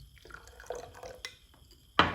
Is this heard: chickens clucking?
no